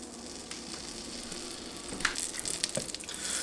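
A knob of butter sizzles in a cast iron skillet over a thin sheen of oil, giving a soft steady crackle with a few brighter spattering pops toward the end.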